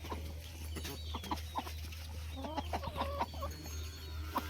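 Several free-range Aseel chickens cluck in short, scattered bursts on a poultry farm over a steady low hum, moderately close, with no talking.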